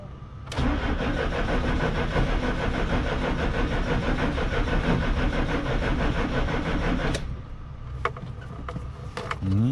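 A GAZelle van engine cranks without catching, a loud continuous starter churn lasting about seven seconds before cutting off, followed by a few faint clicks.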